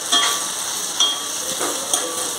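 Tinda (round gourd) sizzles loudly in a pan with garlic and chili over a medium flame, a dense, continuous frying hiss with a few soft scrapes, and nobody speaking.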